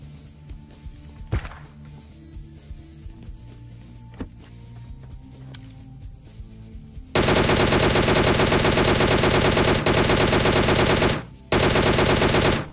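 Gunfire in the video game PUBG, with AWM sniper rifle shots mentioned: quiet game ambience and a few thuds, then a long loud burst of rapid continuous firing that briefly stops and resumes.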